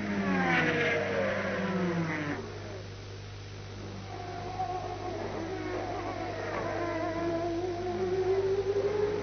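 Race cars, led by Peugeot 905s, leave the start at the 1991 Le Mans 24 Hours, with engines revving and sweeping upward in pitch as the pack accelerates away.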